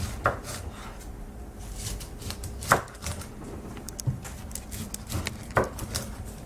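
A knife slices through a head of cauliflower on a cutting board, preparing it for curry cauliflower burgers; several crisp chopping cuts land at irregular intervals, close and fairly distinct against quiet kitchen background.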